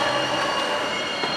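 A Boston metro subway train, a loud steady rumble with high metallic wheel squeal ringing on top, close by and continuous for a brief moment without speech.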